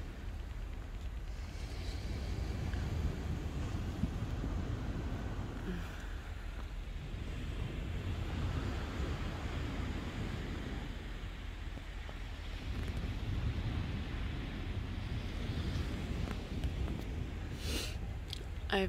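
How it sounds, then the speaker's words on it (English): Ocean waves heard in the early morning, a low continuous wash of surf with gentle swells and some wind rumble, fairly faint and steady throughout. "The sounds of the waves."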